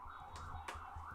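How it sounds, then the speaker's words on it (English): A wailing emergency siren rises and falls steadily, muffled as if heard from indoors through a window, with faint traffic rumble underneath. "Sorry for the sirens in the background"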